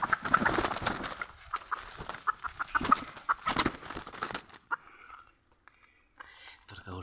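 A freshly caught young wild junglefowl clucking in short, soft bursts, close by, mixed with a voice talking over it before fading to near quiet.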